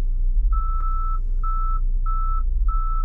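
Four evenly spaced electronic beeps at a steady mid pitch from a Tesla car's parking or collision alert, moderately loud over a low rumbling background hum.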